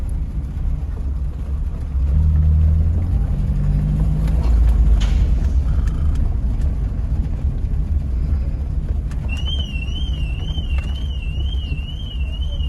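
A car towing a trailer on the drive to a shop gives a steady, loud low engine and road rumble throughout, with a warbling high-pitched tone near the end and no talking.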